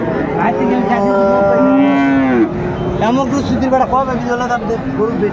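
Friesian and crossbred bulls at a Dhaka cattle market moo loudly and close by in long, rising bellows and shorter grunting lows, over a steady murmur of crowd noise.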